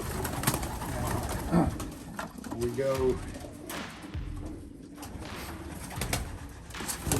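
Pigeons coo softly amid a busy, echoing racing-pigeon loft with perches for about 800 birds, with rustling and background noise; a voice speaks briefly.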